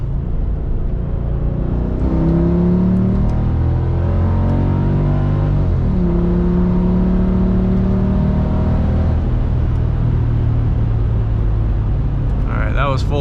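A tuned Mercedes ML55 AMG with Bosch ME 2.0 engine management roars at full throttle on a road drive, its engine note repeatedly climbing in pitch and dropping at gear changes, loud and continuous from inside the cabin.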